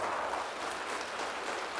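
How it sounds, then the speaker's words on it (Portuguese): A church congregation claps in a continuous, even patter of applause, fairly soft and somewhat distant, with no break across the short stretch. "Vamos aplaudir mais ao nome de Jesus,"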